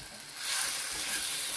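Rambutan pickle sizzling and being stirred in a pan as it cooks, a steady close hiss of frying that swells slightly and holds, with no talk.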